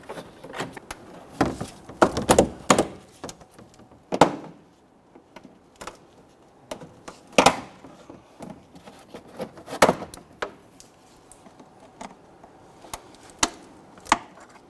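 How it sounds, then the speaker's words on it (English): Plastic clips on a 2006-2012 Toyota RAV4 front inner fender liner and bumper snap and pop as the parts are pulled apart, giving a series of sharp, irregular clicks and cracks close by, with no talk. "grab that fender liner and the bumper and just pull those apart"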